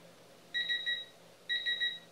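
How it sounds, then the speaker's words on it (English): Two bursts of high electronic beeping from a digital torque wrench, each a quick run of three short pips over a sustained tone, separated by a brief pause; fairly faint, no voices. "that one beeps a little bit as you get close and then tells you you're there"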